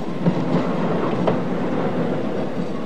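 A diesel-electric train runs on rails in Mexico, a steady low rumble with a few faint rhythmic wheel clacks riding on top.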